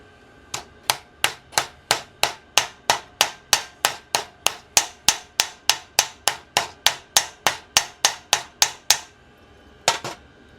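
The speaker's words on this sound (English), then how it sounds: "every time your hammer strikes your workpiece, hammer, workpiece, metal" A hammer strikes a metal workpiece on a hard metal backing about twenty-five times in a steady, even rhythm, sharp ringing clanks up close, then one final blow after a short pause.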